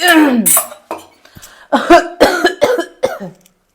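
Several harsh coughs in quick succession, close and loud, with short gaps between bursts.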